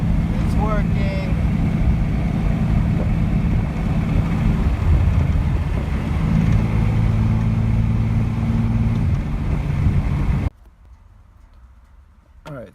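A 1995 Camaro with a newly wired radiator fan switch drives along, a steady low engine drone with wind rumble from inside the car, a voice speaking over it, ending abruptly in near silence.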